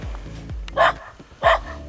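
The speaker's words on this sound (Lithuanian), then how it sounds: "Čia pikti Albanijos šunys loja." Angry dogs in Albania bark twice, sharp and fairly near, about a second apart, over a low rumbling background.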